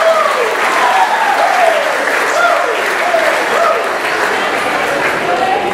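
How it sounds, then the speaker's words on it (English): Guests at a wedding reception break into sustained, full applause for the bride's father, with dense clapping throughout and scattered voices and cheers mixed in. "A nice round of applause, everybody, for the father of the bride."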